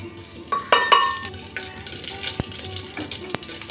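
A spoonful of five-spice tempering and a torn dried red chilli hit hot mustard oil in a pan for masoor dal, giving a close crackling sizzle with a few clinks of utensils.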